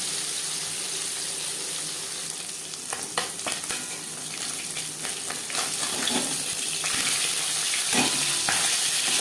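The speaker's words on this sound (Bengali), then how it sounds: "একটা সাইড ভাজা হয়ে গেলে অপর সাইডটা উঠে দেবে" Tangra fish fry in oil in a pan, giving a continuous bright sizzle punctuated by scraping and clattering as the pieces are stirred and turned, with no voices heard.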